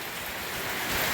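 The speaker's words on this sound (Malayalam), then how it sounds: "ഭയങ്കര കാറ്റിട്ട് ഒരു രക്ഷയില്ലാത്ത കാറ്റ്." Heavy rain and strong wind in Kerala during the Vishu season, a steady broadband roar that swells slightly louder toward the end, continuous and close with no voices.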